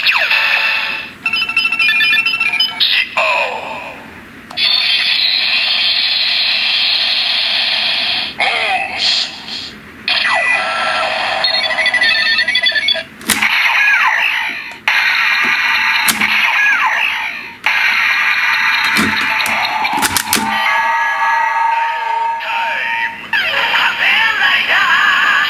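DX Another Watch toys linked with a Ziku-Driver toy belt give out a series of bright electronic jingles, chimes and voiced sound effects in separate bursts, with a person talking in Japanese between them.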